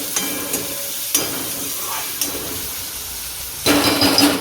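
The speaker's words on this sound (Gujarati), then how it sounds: "તેલમાં તળવા દેવાનું." Chopped onions and green chili frying in hot oil for mamra khichdi, a steady close sizzle with a few sharp spoon taps and scrapes, swelling louder near the end.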